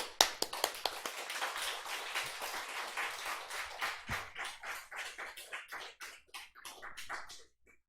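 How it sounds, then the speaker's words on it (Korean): A congregation claps to welcome a guest speaker at a church sermon. It starts as dense applause, then thins into fewer, distinct individual claps that fade out. The sound is moderately close. "올라오실 때 박수로 환영해 주시면 좋겠습니다"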